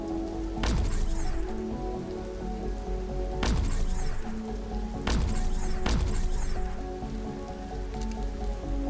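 Rain patters steadily in the sci-fi survival game Empyrion Galactic Survival. A loud, continuous hiss of drops on surfaces is broken by four sharp, crackling bursts spaced a couple of seconds apart, with no speech.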